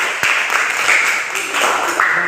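A class of students in a teaching session breaks into brief applause, a dense patter of hand claps that holds steady for a couple of seconds, fairly close.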